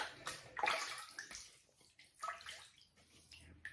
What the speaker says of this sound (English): So let me wet the face and get started.